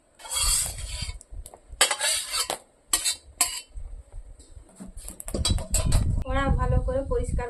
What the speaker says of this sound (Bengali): কাঁসার থালা নিয়েছি, ওইটাই ঢেলে নেব।